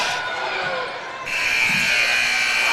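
A buzzer ending a quarter at a high school basketball game sounds over the steady roar of an indoor crowd, with arena noise swelling loudly around it.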